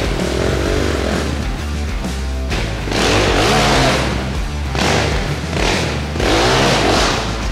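Big Amazon 300 cc dirt bike engine running close by, revving up and down in repeated surges of loud, raspy roar over a steady idle.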